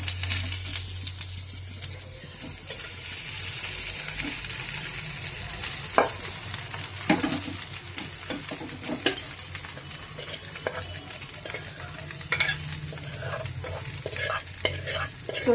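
Boiled sesame flour curry (telagapindi) being stirred and turned in a frying pan: continuous close scraping and soft sizzling, with occasional sharper knocks of the spoon against the pan and no voices.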